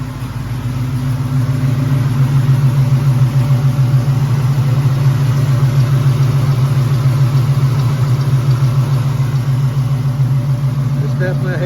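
A car idling through Flowmaster 40 Series mufflers, a loud, steady low rumble with an even throb that holds close and unchanging throughout.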